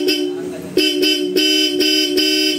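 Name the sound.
Bosch Europa loud car horn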